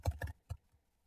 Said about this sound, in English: hopefully you can hear me spamming the keys to try and change that.